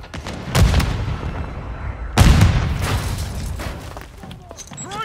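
Two heavy booming blasts from a grenade explosion in Call of Duty: Modern Warfare II, loud and close, each with a rumbling low tail, over ongoing battle noise and faint talk.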